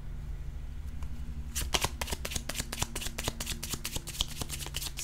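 Tarot cards shuffled by hand, a quiet start followed by rapid rhythmic riffling snaps close by, with no talking.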